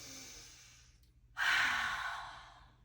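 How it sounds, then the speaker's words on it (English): One forceful breath is pushed out through the mouth during a yoga breathing practice, a sudden loud whoosh that fades over about a second after a quiet pause. "We're going to inhale through our nose and a forceful exhale through our mouth."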